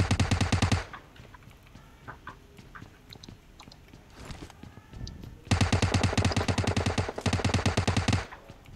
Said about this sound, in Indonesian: Gue nembak terus nih